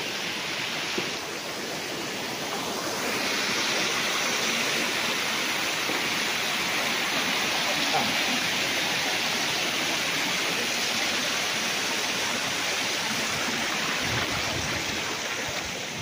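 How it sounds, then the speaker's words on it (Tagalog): Natural spring water flows on a farm lot in Lucban, Quezon, a steady broadband rush close by that holds constant throughout, with no voices. "Yan, may bukal pa dito."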